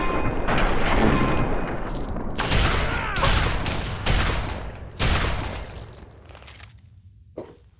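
Heavy gunfire in Fallout 3 rattles out in loud, booming bursts, a sustained barrage followed by several separate blasts that taper off into quiet with one last sharp crack.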